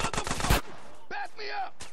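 Gunfire in GTA San Andreas, a quick burst of several sharp, loud shots at the start followed by game sounds and a short final shot, with a voice briefly in between.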